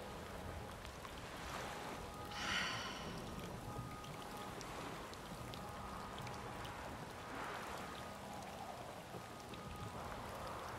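Steady rain and a stormy sea in The Witcher 3 game, a dense constant wash of rainfall and churning water with a brief louder gust or splash, no voices.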